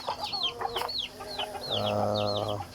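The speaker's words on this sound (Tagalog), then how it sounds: "Tayo magpapakain ng ating mga alagang manok." Several backyard chickens cluck and chirp close by at morning feeding, in quick, uneven bursts, with a lower drawn-out call joining near the end.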